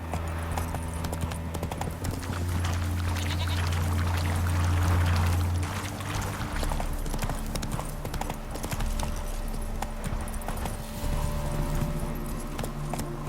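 Geralt's horse Roach gallops in The Witcher 3, with steady rhythmic hoofbeats clopping close and continuously, accompanied by a low sustained game music drone.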